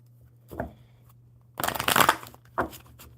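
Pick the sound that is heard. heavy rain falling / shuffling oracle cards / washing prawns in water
shuffling oracle cards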